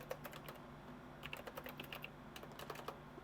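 Rapid, uneven clatter of keys on a computer keyboard, with clicks scattered across the clip and quicker bursts near the middle and end, fairly close but quiet, with no voices.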